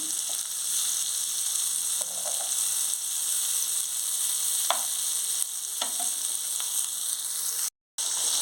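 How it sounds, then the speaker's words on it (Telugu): Fish fried in a pan of oil, a dense, steady sizzle throughout with a few soft scrapes and taps of a utensil, close up and without voices. "చేపలన్నీ ఈ విధంగా వేయించుకోవాలి రోస్లో వేయించుకోవాలి"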